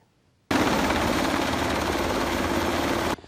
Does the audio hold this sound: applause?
no